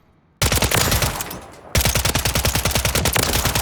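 The WSP9 submachine gun fires in Warzone, a loud close burst of rapid shots, a brief pause with a decaying tail, then a second longer burst of evenly spaced, fairly slow rounds.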